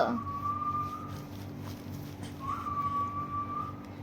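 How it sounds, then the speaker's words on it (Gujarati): Two long, steady whistled notes from a person's mouth, separated by a short pause, over a low background hum. "કુકરમાંથી નથી વાગતી આ સીટી. વાગે છે તારા પપ્પાના મોઢામાંથી."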